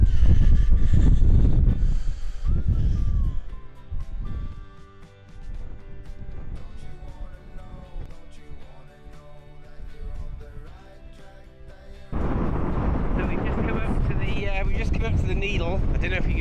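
Strong wind buffets the microphone on a hilltop at the Quiraing on the Isle of Skye, Scotland, a loud, continuous roaring rush that swells and eases, with voices talking beneath it.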